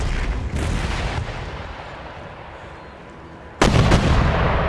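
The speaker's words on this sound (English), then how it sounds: "Okay, the mortars are firing." Mortars and artillery fire in the video game Empire: Total War, a continuous rumble of distant booming shots with a sharp, louder blast arriving near the end.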